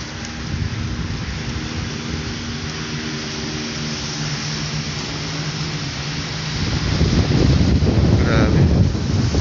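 Loud, steady roar of strong wind and rushing waves on Manila Bay, a broad rumbling wash that swells stronger in the final few seconds.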